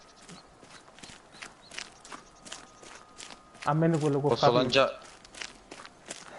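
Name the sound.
footsteps of character walking, from video game Euro Fishing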